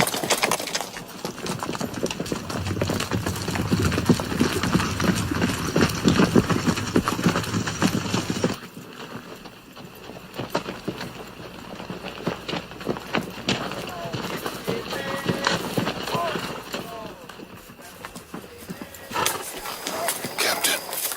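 Horses gallop with drumming hooves and occasional whinnies as vaquero riders approach in a western movie, loud and close at first, then thinning out, under spoken dialogue and background sound.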